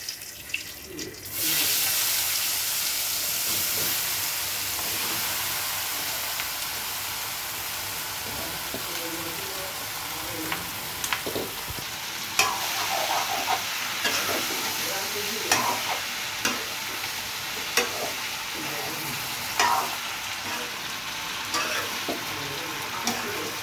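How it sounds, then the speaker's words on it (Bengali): Bay leaves and spice-coated mushrooms hitting hot oil, a sustained bright sizzle that starts suddenly and runs throughout, broken by repeated clinks and scrapes of stirring in the pan. "তেল গরম হয়ে গেছে, এদিকে আমার সব মশলা দিয়ে মাশরুমও মাখা হয়ে গেছে। তেলে দিয়ে দিলাম তেজপাতা"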